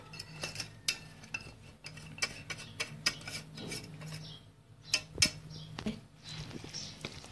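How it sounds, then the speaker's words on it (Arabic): A utensil stirs through a cauliflower mixture in a bowl, giving repeated clinks and scraping taps in an irregular rhythm, close and fairly quiet, with no talk. "يلا هنقلب الخليط مع بعض كده"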